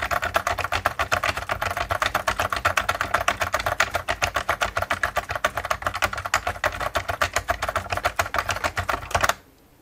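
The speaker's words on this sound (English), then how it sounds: "I can hammer both keyboards" Rapid, hard keystrokes clatter nonstop on two computer keyboards, a dense fast rhythm that cuts off abruptly at the end.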